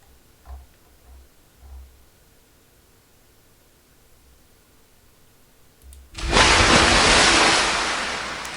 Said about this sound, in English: So we get a flood of water